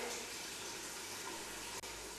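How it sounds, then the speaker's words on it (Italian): Water pours steadily from a tap or jug into homemade bread dough in a home kitchen, a continuous close rushing splash lasting the whole moment with a brief dip near the end. "Mettiamo l'acqua."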